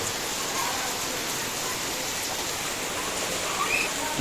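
Steady, dense rainfall hisses continuously, close and even, with no breaks or voices.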